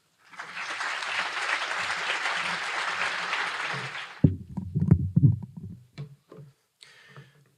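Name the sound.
audience applause welcoming speaker Theo Wold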